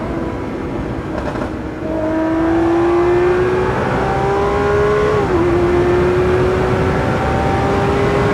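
A 2022 Lamborghini Aventador SVJ Roadster engine revs hard while driving, a loud, close, steadily rising roar that holds, dips briefly, then climbs again.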